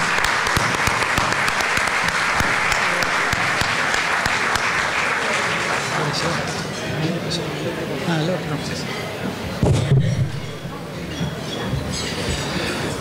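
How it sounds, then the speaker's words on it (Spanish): Audience applause at an annual dinner event in Rosario welcoming a speaker, a steady broadband patter for about nine seconds before it thins out. A voice briefly begins speaking near the end. "Y lo recibimos con un aplauso también"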